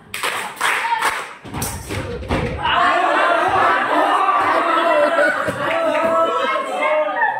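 A school class claps for a classmate: a few loud, heavy claps and thumps at the start, then the room fills with chatter and laughing voices as the clapping thins out.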